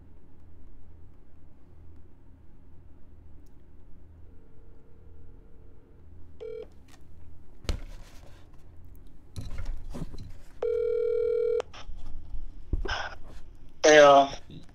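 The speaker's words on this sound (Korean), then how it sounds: "백마장군님께 전화를 좀 드려서 좀 말씀을 좀 들어보도록 하겠습니다." Telephone dialing followed by a steady ringback tone on an outgoing call: a few short beeps, then a sustained tone pulsing twice over a low background hum, ending as a voice answers.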